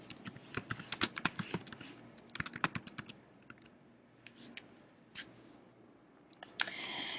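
A computer keyboard being typed on at close range as a title is entered into an Excel spreadsheet, with quick irregular bursts of key clicks that thin out into sparse taps before a final flurry, and no talk.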